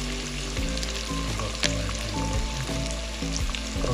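Onion, bell pepper and carrot fry in hot oil for a Kazakh kuyrdak with kidney and heart. A steady, close sizzle runs throughout, broken by a few sharp clinks of the utensil and no talk.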